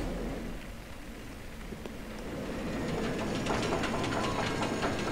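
Roller coaster train from Roller Coaster Tycoon 3 rattling along its track in the video game, a steady loud rolling rumble with clicking that builds in intensity and brightness over the last seconds, with no talking.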